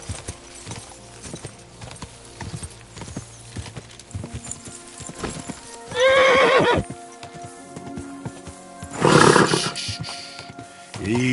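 Rhythmic hoof clip-clop of a galloping horse in the video game Kingdom Come: Deliverance II, with two loud, harmonic whinnies rising above the hoofbeats, steady and close.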